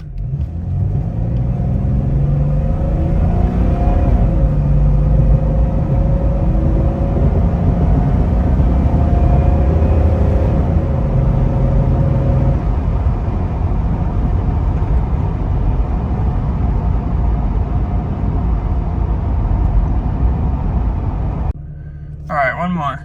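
A rebuilt Jeep with a 4.0L engine accelerates from rest toward 60 mph on a long straight flat road, the engine droning loud and close while it climbs through the gears and then easing off near the end.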